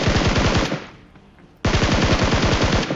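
Loud, sustained automatic gunfire in a shooting video game, two long rapid bursts separated by a brief pause, close and dominant with no talk.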